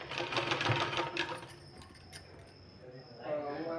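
A sewing machine runs while stitching a sleeve, with a fast mechanical whir that starts and stops. Someone speaks over and between the stitching.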